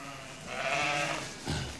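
A ewe gives one drawn-out, wavering bleat, close and fairly loud, then a shorter bleat follows.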